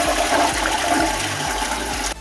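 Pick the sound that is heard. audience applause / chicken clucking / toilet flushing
toilet flushing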